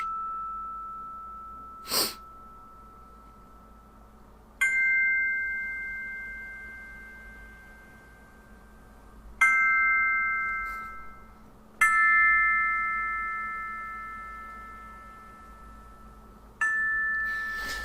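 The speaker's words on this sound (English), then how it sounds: "bells, they were kind of just holding long notes, but they're going back and forth left and right" Synthesized bells in a fantasy-style musical theme strike and hold long ringing notes, each decaying slowly, entering several times in turn and panned back and forth between left and right.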